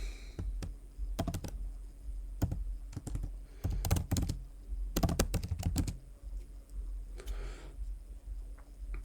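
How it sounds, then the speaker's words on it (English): Typing on a computer keyboard, with bursts of quick, close clicking keystrokes separated by short pauses over a low steady hum, and no voices. "I hate typing."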